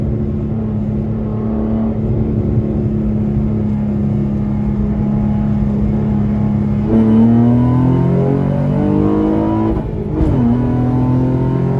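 A 2008 Honda Accord V6 coupe and a 2004 Nissan 350z, both 3.5L V6s, accelerate side by side in a roll race, engines droning loudly and steadily before rising in pitch, with a brief gear-shift dip.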